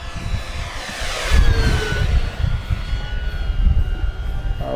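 Electric FMS P-51 Mustang V8 RC warbird, 1450 mm RedTail, flying past outdoors in wind, a steady moderate motor and propeller whine with gusty rumble underneath.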